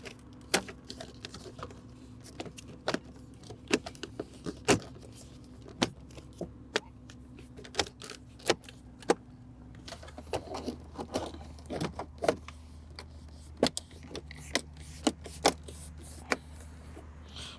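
Plastic interior trim panels on a 2010-2013 Lexus GX center console snap into place with scattered sharp clicks and light knocks. Each one is close and distinct, over a low steady hum inside the vehicle.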